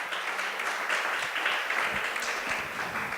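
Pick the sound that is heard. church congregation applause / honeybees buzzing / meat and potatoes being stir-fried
church congregation applause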